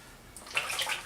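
Water rushes and splashes as a Moroccan rhassoul clay mask is rinsed off, a brief close wash that swells and stays steady.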